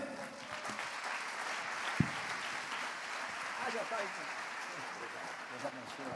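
Applause welcoming a pastor at a church service, a steady broad patter of clapping from the congregation that holds at an even level throughout, with a faint murmur of voices underneath.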